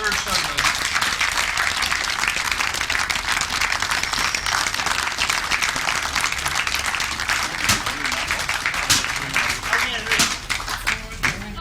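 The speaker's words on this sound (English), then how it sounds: "I think we'll give a great big round of applause to a terrific effort from Tony Atkin." A crowd at a 2002 international grasstrack motorcycle racing prize giving claps steadily and loudly for over ten seconds, with sharp individual claps standing out from the dense wash and voices mixed in.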